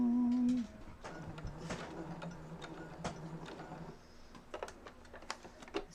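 A sewing machine stitches into a quilt, giving quiet irregular mechanical ticks and clicks over a low motor hum that fades partway through.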